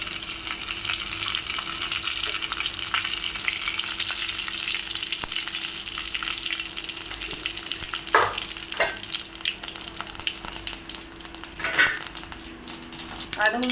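Soaked elephant foot yam frying in a pan gives a steady, loud sizzle throughout, with occasional utensil scrapes and clinks against the pan as it is stirred.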